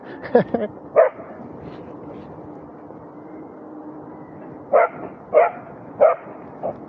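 Several sharp dog barks come in two clusters, near the start and again toward the end, as the dog chases an Inmotion V1 electric unicycle on a ride from Stockport to Wythenshawe, over steady wind and road rumble.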